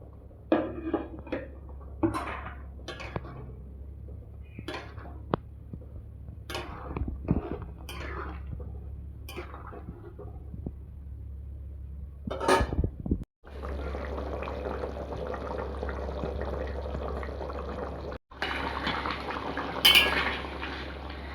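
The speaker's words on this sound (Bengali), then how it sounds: "এবার আমি মাছগুলো ঢেলে দেবো।" Pieces of rohu fish are poured into a pot of boiling turmeric broth. Scattered clinks of utensils come first, then a dense rushing splash and bubbling that continues to the end.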